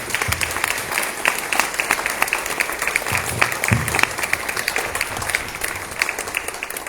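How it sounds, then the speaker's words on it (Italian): Audience applause at an event on women of medieval Sardinia, a steady patter of many hands clapping in a room, with a few sharper claps standing out, continuing throughout. "vorrei dedicare un applauso ancora alla figura di Roberto Coroneo"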